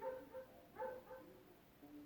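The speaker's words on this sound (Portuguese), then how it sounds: "Tem um cachorro latindo aqui" A dog barking somewhere in the background during an indoor reading, a few short bark-like bursts spaced over two seconds, faint and fairly distant.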